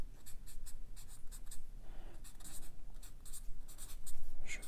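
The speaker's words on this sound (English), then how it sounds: "So let's do a little Sharpie here." A Sharpie marker writes on an 80 gsm Rhodia paper pad, a close series of quick scratchy squeaking strokes in irregular bursts, with no talking over it.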